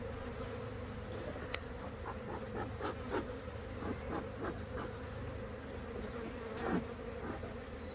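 Honey bees buzz during a beehive inspection, a steady close drone of many insects with brief louder passes of single bees near the listener.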